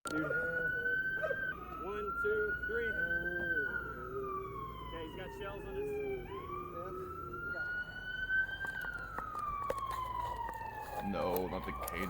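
A police car siren wails in long rising and falling sweeps at a shooting scene, loud and close, running steadily under tense overlapping talk from officers.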